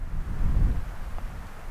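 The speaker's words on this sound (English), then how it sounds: "it's very windy out here" Low, gusty lakeside wind at Timothy Lake rumbles across the microphone, swelling briefly before easing off.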